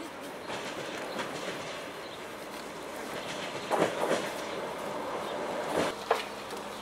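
Train rumbling at Valmiera railway station, a steady low rolling roar throughout with a few louder clanks and bumps near the middle and end, heard alone without voices.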